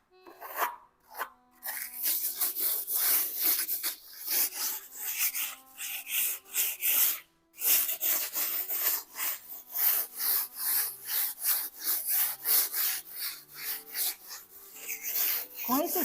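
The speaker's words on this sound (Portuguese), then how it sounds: "À medida que eu converso uma trama na outra, eu vou movimentando a desempenadeira." A plastering float scrapes over fresh plaster on a wall in repeated, close, rhythmic rubbing strokes with brief pauses, while a voice speaks quietly underneath.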